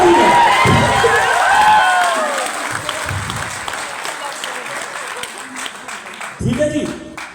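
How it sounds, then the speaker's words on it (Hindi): Loud applause and cheering fill a Hindi-speaking audience hall, dense at first and slowly thinning, with voices and shouts mixed in before a final burst near the end. "चलो मैं जोरदार तालियां मांग लेता हूं आपसे।"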